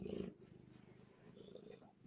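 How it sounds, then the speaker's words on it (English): A cat held close purrs in a soft, low, continuous rumble, faint and without any talking. "She is purring."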